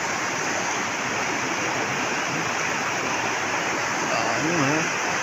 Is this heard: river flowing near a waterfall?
yes